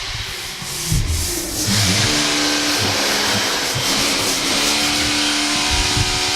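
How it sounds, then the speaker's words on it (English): Overspray contamination on Audi R8 paintwork rasps and grates as a hand or cloth rubs across the panel, a gritty scraping texture that comes in repeated strokes with a low background hum, no one speaking. "That is the sound of overspray."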